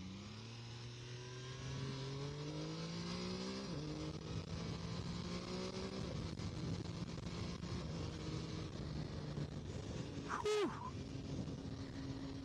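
A 2014 MV Agusta Brutale 800 motorcycle engine winds up through the gears with climbing tones, a brief dip at a shift, then a sharp high rev spike near the end, heard steadily under wind noise.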